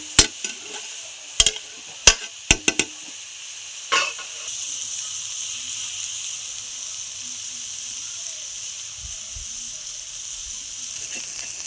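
Food frying and being stirred in a pan. A few sharp utensil clinks and scrapes come in the first seconds, then a soft, steady sizzling hiss continues alone.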